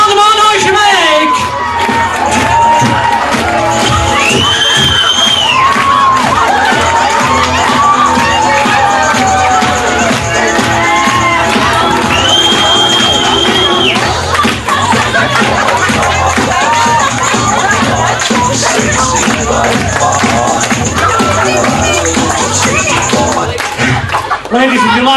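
A crowd at a comedy stage hypnosis show cheers, whoops and shouts loudly over scattered clapping, a raucous, continuous din with individual yells and whistles rising out of the babble, close and very loud throughout.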